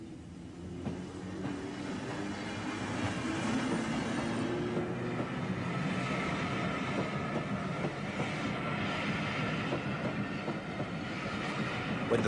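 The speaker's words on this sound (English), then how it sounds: "the approaching train actuates track circuits and treadles, causing the road traffic lights to flash, bells or warblers to sound," A train rolls toward and past a level crossing with a steady rumble and rhythmic wheel clatter that builds and then holds loud and close, with no voices.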